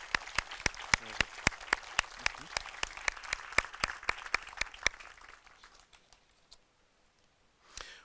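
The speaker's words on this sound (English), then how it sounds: "One more round of applause for World War II veteran and retired Colonel T. Williams." A handful of people at a Veterans Day ceremony clap in a sharp, evenly spaced rhythm for a World War II veteran, the crisp individual claps fading out, followed by a brief swell near the end.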